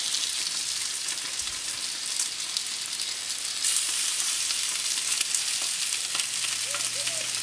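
Quails laid skin-side down on a hot plancha give off a steady, close hissing sizzle that stays even and unbroken throughout, with no talking.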